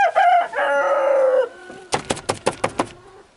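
A rooster crows one loud, drawn-out call up close, followed by a quick run of about six sharp clucks or knocks in a rapid rhythm.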